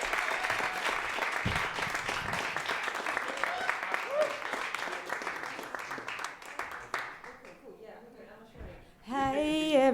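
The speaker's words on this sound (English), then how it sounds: "Keep clapping." Steady audience applause at a poetry performance, continuing for several seconds while a host speaks over it, then fading as the crowd settles and a voice takes over at the end.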